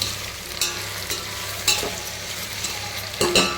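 Cucumber and tomato frying in a pan, a continuous sizzle broken by several distinct scraping stirs of a spoon, close and fairly loud, no voices.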